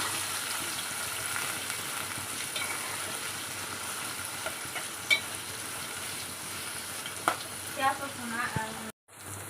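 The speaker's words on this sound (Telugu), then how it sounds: "ఒక పెద్ద ఉల్లిగడ్డ వేసేసుకోవాలి. అన్నీ బాగా కొంచెం లైట్గా ఫ్రై అవ్వనివ్వాలండి" Green chillies and a large chopped onion fry lightly in oil in a pan, a soft continuous sizzle with occasional stirring clinks and scrapes, fairly quiet, with a voice speaking now and then.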